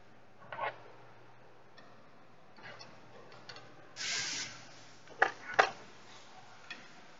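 A long ratchet works bolts during a timing chain job on an Audi A4 2.0L BWT engine, giving a few sparse sharp clicks, a short hissing burst and two louder snaps close by in a quiet workshop, with no talking.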